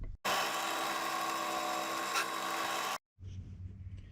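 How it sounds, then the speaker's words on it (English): Power drill boring a hole with oil on the bit during a 200-4R transmission rebuild: a loud, steady whining grind that runs for about three seconds, then cuts off abruptly, leaving faint low rumble. "let's drill it"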